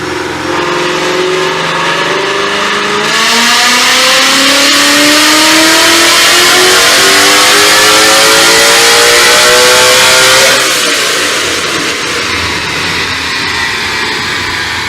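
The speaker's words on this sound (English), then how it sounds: "when he gets back, we'll get this last dyno pull in" A loud supercharged Mustang GT engine revs steadily upward for several seconds during a dyno pull, pitch climbing, then drops back to a rough idle near the end.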